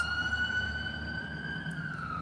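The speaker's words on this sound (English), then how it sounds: "In the summer, that's all we hear are the ambulances" An ambulance siren passes in the street, one long steady wailing tone with bright harmonics, moderately loud and sliding slightly in pitch as it goes by, over low traffic rumble.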